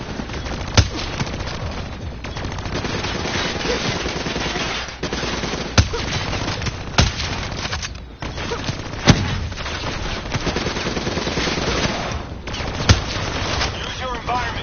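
Sustained machine gun fire rattles through a Call of Duty: Black Ops 3 campaign battle, dense continuous bursts with occasional sharper shots and booms, loud and close, while voices speak underneath.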